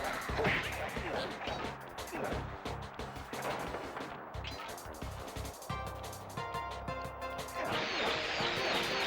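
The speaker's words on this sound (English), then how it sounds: "Set off these fireworks." Fireworks burst in the Sly Cooper video game, a run of sharp cracks and whooshing bangs with crackling tails, then a bright fizzing shower near the end, set against game music and effects.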